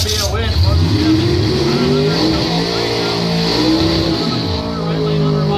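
Drag racing cars, a Chevy among them, roar loud and close in a sustained engine howl with shifting harmonics, while an announcer talks over the race throughout.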